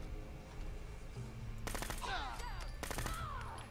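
Turrets and gunners open fire in the video game Fallout 4, with two rapid automatic bursts of crackling shots and whining ricochets over a low background hum.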